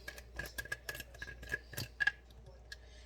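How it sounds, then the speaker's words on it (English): Strawberries being cut with a knife, a series of small close clicks and snips in an irregular rhythm over quiet background, fairly faint with no talk. "So you always got to cut your strawberries up."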